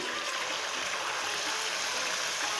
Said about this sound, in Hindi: और हम इसमें डालेंगे थोड़ा सा पानी